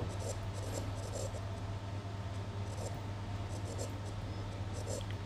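Faint strokes of writing a selling price formula during a profit and loss maths lesson, soft scratches every second or so, half buried under a steady low hum.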